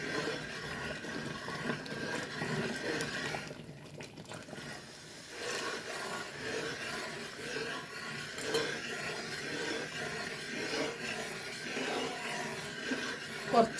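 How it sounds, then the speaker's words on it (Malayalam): Second coconut milk poured into a pot of banana payasam, a soft, continuous liquid pour with faint clinks from the pot and utensils. "രണ്ടാം പാലാണ് ഒഴിച്ചു കൊടുക്കുന്നത്."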